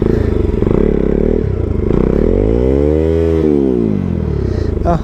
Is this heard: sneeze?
no